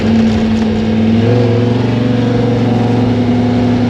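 A 1964 Chevy II gasser with a tunnel ram and dual quads idles steadily at around highway RPM, a loud, continuous close-up drone with a constant low hum and no talking.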